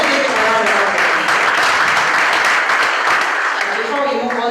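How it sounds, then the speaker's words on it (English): Loud, dense audience applause at a university law society's Lawyers' Day event, a continuous wash of many hands clapping close by, with a few voices faintly audible underneath. "Can we give him a round of applause?"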